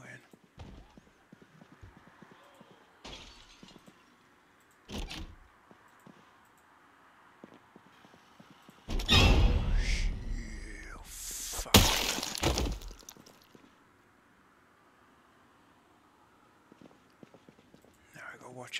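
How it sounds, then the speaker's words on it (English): A zombie smashes against a window in the game Project Zomboid, loud crashing and shattering bursts with glassy breaking in the middle, separated by quieter thuds, while someone talks over it. "He's hitting a window, it sounds like he's smashing on a fucking door"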